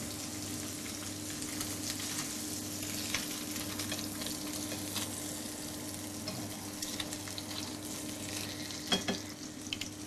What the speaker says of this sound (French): Bien les saisir au départ sur un beurre qui est légèrement noisette.